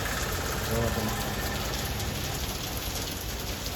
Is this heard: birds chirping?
no